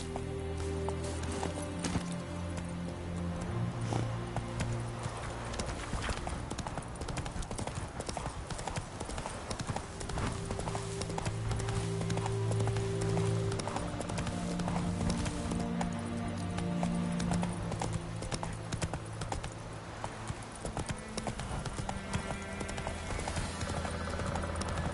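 Horse Roach gallops in The Witcher 3, a steady rapid clip-clop of hooves running continuously beneath game music, with an occasional whinny.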